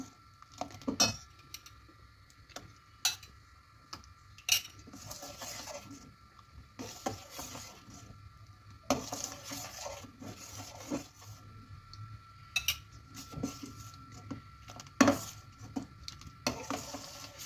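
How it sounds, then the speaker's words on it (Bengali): Date palm jaggery being stirred into simmering milk in a pot for chhanar payesh, with soft repeated clinks of a utensil against the pot at irregular intervals over a low background hum, no talking. "সেটা আমি অল্প অল্প করে দেব, অল্প অল্প করে মেশাতে থাকবো।"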